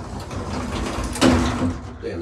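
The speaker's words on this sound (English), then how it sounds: "that door opens so fast it slams open" Schindler S-Series elevator door at a Lisbon hotel sliding open very fast and slamming at the end of its travel, a sudden loud thud over a steady hum of car noise and background chatter.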